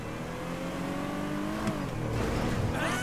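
A muscle car engine in the video game GTA V revs and drones steadily, pitch rising and shifting, with a brief squeal near the end.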